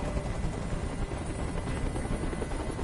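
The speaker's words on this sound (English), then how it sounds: "Tell that helicopter to get out of here." A helicopter in the video game Detroit: Become Human hovers overhead, giving a loud, continuous rotor rumble and chop that holds steady throughout.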